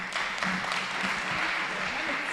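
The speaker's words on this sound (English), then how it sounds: "Let's give them a real round of applause." Applause from a festival audience at an Africa Climate Day event, a steady wash of clapping filling the whole moment, with a voice faintly underneath.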